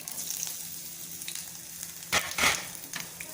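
Tempering of mustard seeds, chillies, asafoetida and ginger spluttering in hot oil, a steady close sizzle broken by two sharper crackling bursts near the end.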